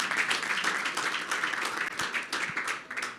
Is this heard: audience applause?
yes